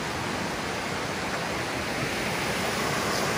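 A clear stream about 100 meters from a rural house flows as a steady, even rush of water, with constant broadband noise and no voices over it.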